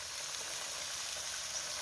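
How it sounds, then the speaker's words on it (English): French beans and bean stew sizzle in a hot pot in a Kenyan home kitchen: a soft, steady hiss of frying runs evenly throughout, close and fairly quiet, with no talk. "They are just sizzling to be ready, and the bean stew is also ready."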